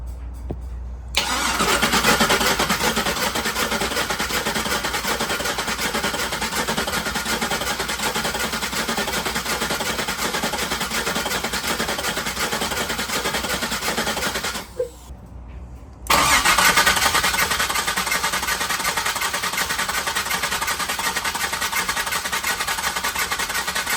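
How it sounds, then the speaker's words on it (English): An LS-swapped square-body truck engine cranking over, a loud steady mechanical drone that runs continuously for about fourteen seconds, pauses briefly, then resumes just as strongly. "we're gonna crank this thing over and see if we can get some oil pressure first"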